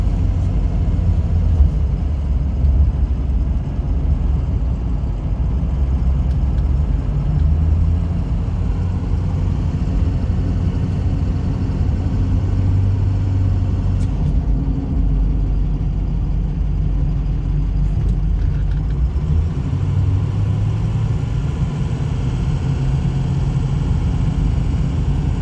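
A 2006 Ford F350 King Ranch 6.0L 4wd pickup on a test drive holds about half throttle, giving a steady, continuous low engine rumble and drone that stays even from start to finish with no talking.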